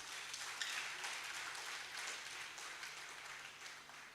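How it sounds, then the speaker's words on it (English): Applause from a lecture audience at a valedictory lecture, a steady, moderately distant wash of many hands clapping that holds for several seconds and fades slightly toward the end. "Yes, you can clap."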